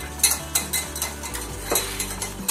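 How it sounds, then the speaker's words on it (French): A utensil clinks and scrapes rhythmically against a bowl while powdered sugar is stirred into egg white, giving quick repeated taps, close and fairly quiet, with no voices. "vous mettez du sucre glace dans votre blanc d'œuf et vous mélangez"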